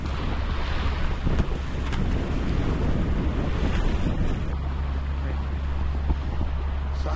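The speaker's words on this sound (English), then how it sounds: "it's really windy today, and so that's why it's so" Strong coastal wind buffets the microphone continuously while choppy ocean waves churn and wash nearby during a typhoon on the Sokcho coast, a loud, steady roar with no pauses.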